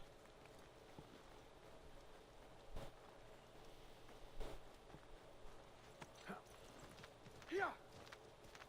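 Horse hooves clip-clopping in Assassin's Creed 3, a few soft separated hoofbeats at a walking pace sitting faintly under a steady game ambience, with one sharper burst near the end.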